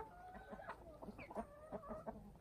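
Several chickens cluck repeatedly in short, close, irregular calls, with a rooster-like call among them, as backyard hens are let out in the early evening to get some air.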